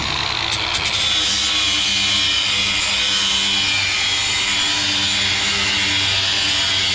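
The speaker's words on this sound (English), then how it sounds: "I used a 60 grit flap wheel on a Ryobi" A Ryobi grinder fitted with a 60 grit flap wheel grinds aluminum inside a jon boat, giving a steady, loud, continuous abrasive whine with no pauses and no voices.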